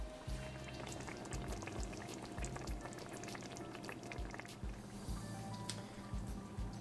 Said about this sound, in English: we'll let this simmer until the gravy thickens, maybe 5 to 10 minutes or so